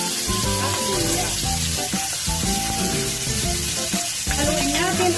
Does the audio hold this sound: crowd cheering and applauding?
no